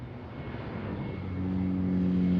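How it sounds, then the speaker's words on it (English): Jet engine roar from a United passenger airliner, an Airbus arriving from Chicago on short final approach for landing at SEA, building steadily louder and closer with a low droning hum and rising whine. "United 1801 from Chicago. They've been flying for almost 4 hours now, and they're on short final here."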